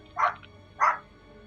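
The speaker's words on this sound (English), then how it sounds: "Oh, shush, dogs." Dogs barking indoors in a room, two separate sharp barks about half a second apart, close and moderately loud against a quiet background.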